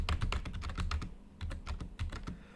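Rapid typing on a computer keyboard, close and steady, with a brief pause midway, no voices.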